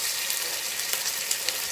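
Radish cake frying in a pan over medium to medium-low heat, a steady close hiss of sizzling oil with a few faint pops and crackles, no voices.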